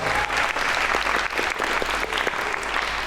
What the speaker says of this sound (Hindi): भैया एक थी लैला के लिए तालियां बजाएं।